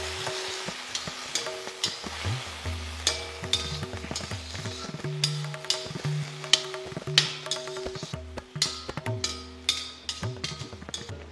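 Avarekalu field bean gojju masala bubbles in a pan, stirred with repeated scraping clicks and a steady sizzle close by.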